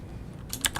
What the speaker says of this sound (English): I don't have to keep typing it.